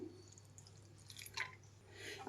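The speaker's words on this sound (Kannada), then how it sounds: "ಇದಕ್ಕೊಂದು ಸ್ವಲ್ಪ ನೀರು ಹಾಕ್ತಾಯಿದ್ದೀನಿ" A little water is poured over washed coriander leaves before they are ground into a masala for a capsicum lemon chicken fry, giving faint, soft drips and trickles in a quiet kitchen.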